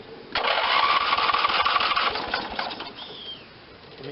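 A 1986 Lawn Chief 300 riding mower's Briggs and Stratton 8hp engine cranks on a battery boost: a loud, steady whirring churn runs for nearly three seconds, then fades out.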